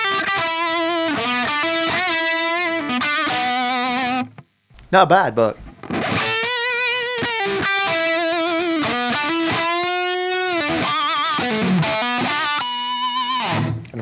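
An electric guitar runs through a TS9 overdrive pedal, giving loud, sustained distorted chords and notes with a gritty, harmonically rich tone. A short pause in the middle carries a brief spoken remark before the playing resumes.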